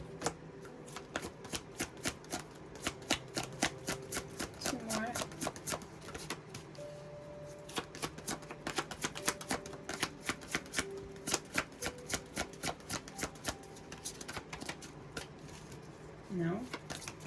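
Tarot cards shuffled and drawn in a run of rapid crisp riffling flutters and snaps, close and steady throughout, with a voice speaking and humming softly underneath.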